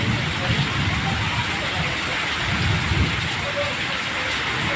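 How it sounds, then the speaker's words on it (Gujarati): Heavy rain pours steadily in Kharadi village, a dense continuous hiss with low rumbling thunder underneath, loud and close throughout. "અહીંયા વરસાદ સારામાં સારો છે"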